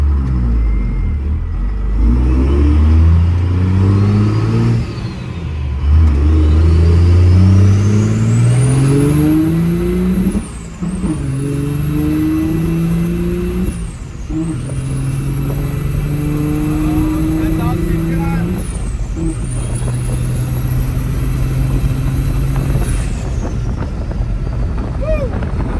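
A tuned second-generation Cummins diesel pickup roars hard through several gear changes, engine pitch climbing and dropping with each shift, a turbo whistle rising over the loud rumble.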